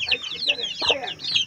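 Brahma chickens on a small farm cluck in quick, overlapping bursts, close and fairly loud, with a busy chatter of fowl filling the moment.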